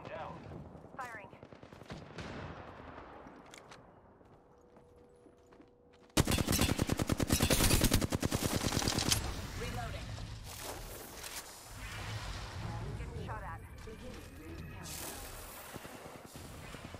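Gunfire in the video game Apex Legends: scattered shots at first, then a loud, sudden burst of rapid automatic fire, followed by further bursts and battle noise, with game voice lines mixed in.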